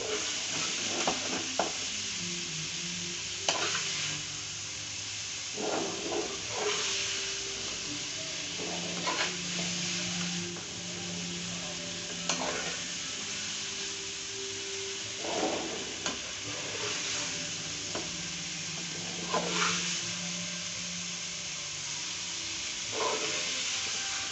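Okra (bhindi) frying in a pan, a soft continuous sizzle with gentle, irregular stirring scrapes and clinks recurring every few seconds, quiet and close.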